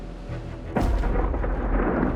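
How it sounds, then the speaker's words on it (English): Thunder from a storm over Florida's east coast: one deep boom breaks in suddenly and gives way to a loud, sustained low rumble over wind-like background noise, with no voices. "A bad storm is hitting the entire east coast of Florida"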